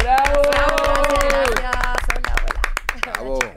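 A TV studio audience claps in a brisk burst of hand claps beneath a presenter's voice, with speech carrying on over the clapping.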